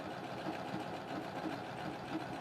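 A sewing machine stitches a quilt strip with a soft, steady mechanical whir and a faint rhythmic patter of the needle, running continuously and quietly close by.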